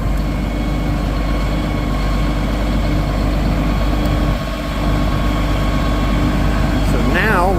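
A truck's heavy engine idles and rumbles nearby as it creeps up onto blocks to raise it for fitting a dual wheel, a steady low drone with a faint whine rising near the end.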